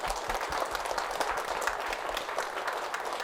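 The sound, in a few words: audience applause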